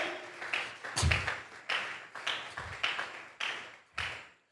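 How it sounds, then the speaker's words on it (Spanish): Church congregation at a Sunday service clapping their hands, a series of sharp, distinct claps in an uneven rhythm with short gaps between them, fairly close and alone. "Vamos a regalarle ofrenda de palmas al Dios de la gloria"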